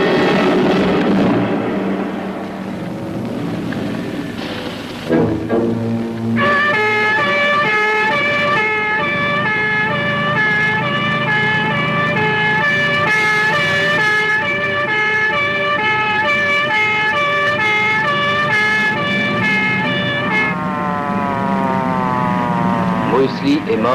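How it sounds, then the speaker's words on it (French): A wailing ambulance siren sweeps steadily up and down for most of the stretch, loud and close, rising after a few seconds of other sound and carrying on above low traffic rumble. "Je vais appeler une ambulance."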